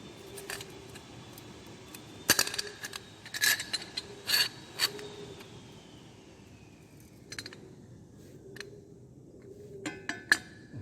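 A bolt being threaded into a homemade metal DIY tool gives off scattered metallic clinks, rattles and light scraping, close up, with a few sharper ringing taps mixed in and no talking.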